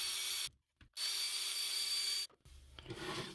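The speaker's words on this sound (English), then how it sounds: "It's always a good idea to drill out your holes to the proper size" A steady high-pitched whine of a small drill opening up holes in 3D-printed plastic parts of a Studebaker pickup model kit, running in two bursts with a brief pause, then trailing off into softer scraping.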